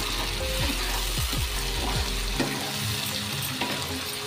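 Tomatoes go into a frying makhana curry in a pan, bringing a loud close sizzle with a few stirring scrapes and clinks at first, then a steady crackling fry; no talk.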